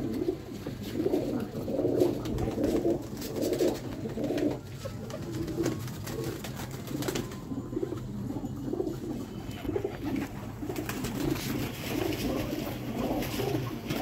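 Teddy pigeons cooing in a loft, repeated soft low rolling coos from several birds overlapping in a steady rhythm, close by with faint background noise.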